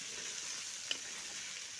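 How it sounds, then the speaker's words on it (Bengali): Potato and yardlong bean pieces fry in white cooking oil, a faint, soft continuous sizzle heard up close with one small clink partway through and no voices. "একটু ভালো করে এইভাবে ভেজে নিচ্ছি বা কষিয়ে নিচ্ছি"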